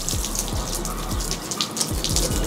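Water is poured over a dirty bicycle at home to loosen caked dirt and dust, a steady close splashing wash with a few soft repeated thumps underneath.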